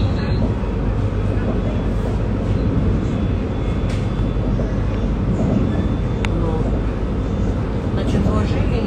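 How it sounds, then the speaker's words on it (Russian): Inside a moving train, a loud, continuous low rumble and rattling of the carriage with faint occasional squeaks, sustained throughout with a voice talking over it. "Самолет? Нет, я в поезде."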